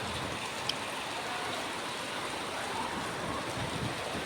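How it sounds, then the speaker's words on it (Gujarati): Heavy rain pours steadily in a broad, even wash of noise during a Gujarati village downpour with strong wind, holding constant for several seconds with a brief tap near the start and no talk. "ખાલી વરસાદ જોવા તમે ખાલી"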